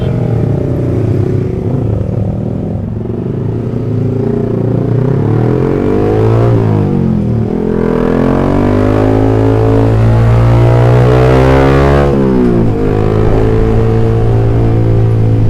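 Yamaha R15 V3 motorcycle with an aftermarket exhaust rumbles loudly at close range, climbing in a sustained rev before easing back, with no talk over it.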